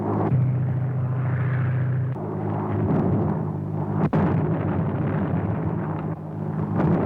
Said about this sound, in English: Landing tear gas bombs all around them